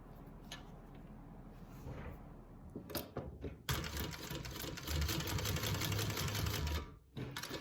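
A sewing machine bastes a bag tab holding an O-ring, starting with handling clicks, then running in loud, steady bursts of rapid stitching before stopping abruptly.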